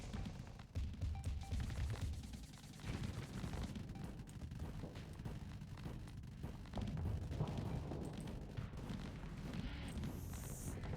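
Reaper missiles launching and detonating in the space combat game Starsector, a dense, continuous barrage of booming blasts and rumbling impacts with repeated sharp bursts throughout.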